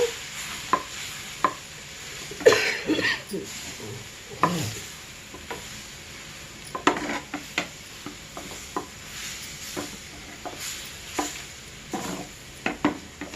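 Mashed potato stuffing for masala dosa being mixed in a pan, with irregular scrapes and sharp taps of a spoon against the metal and a light background sizzle.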